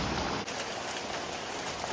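Rain falls in a steady, even hiss across the whole short stretch, fairly soft and continuous, with no voices.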